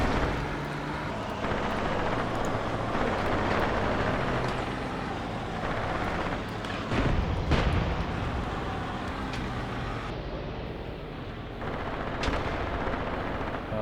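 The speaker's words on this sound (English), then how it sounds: "Throwing grenades is not nice." Battle din from the Graviteam Tactics tank war game: continuous dense explosions and gunfire with grenade blasts, a heavier burst near the middle, sustained and loud with no voices.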